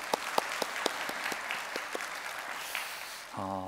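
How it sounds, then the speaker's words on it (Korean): Applause from a church congregation after a testimony, a steady wash of clapping with a few sharper claps standing out, moderately distant, ending as a voice begins speaking. "우리 하나님께 감사의 박수 올리겠습니다"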